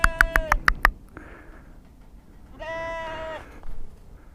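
Several sheep bleat on a farm in a rapid burst of short, loud calls, then a quieter murmur, and finally one longer, wavering bleat close by.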